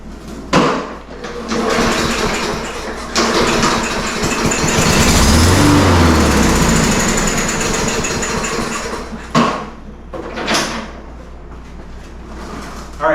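Toro walk-behind lawn mower with a plastic carburetor firing briefly after a shot of carb cleaner, a loud rough engine burst that runs a few seconds, sputters and dies, with clunks before and after.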